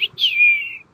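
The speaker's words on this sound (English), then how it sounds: "That's a real crow." A crow calls once in Saint Louis Cemetery No. 3, a clear, fairly loud cry with a sliding tone that dips, then rises and trails off, heard alone without talk.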